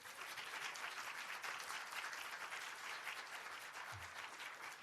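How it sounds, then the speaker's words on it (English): Steady applause from a conference audience welcoming a panel speaker at a plenary session, a dense, even wash of clapping from many hands lasting several seconds without talk. "let's welcome him with an applause"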